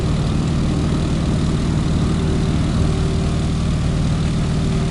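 Boeing Stearman PT-17 biplane engine droning loud and steady during takeoff in Microsoft Flight Simulator, a constant close propeller hum with no pauses or talk.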